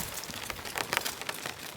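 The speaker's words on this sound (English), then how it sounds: "Quite a nice little gentle rain coming down too, actually. A little pitter pitter." Gentle rain patters steadily on a tent at a remote New Zealand lake, a soft continuous hiss of close, irregular drops with a few slightly louder taps.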